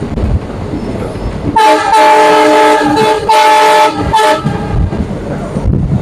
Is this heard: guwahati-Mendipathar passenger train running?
yes